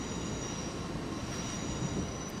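A subway train in the game World of Subways 4 rumbles along under a brief dab of brakes, its wheels giving a faint high squeal over a steady low roll, with no talking.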